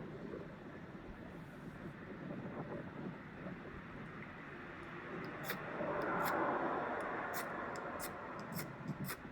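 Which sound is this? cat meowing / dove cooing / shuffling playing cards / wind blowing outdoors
wind blowing outdoors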